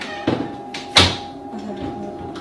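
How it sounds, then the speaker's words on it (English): Someone violently bangs on the doors of a house, with two sharp, loud, close thuds about half a second apart, the second one heavier, and no talking. "somebody keeps like violently banging on the doors"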